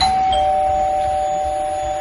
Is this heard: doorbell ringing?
yes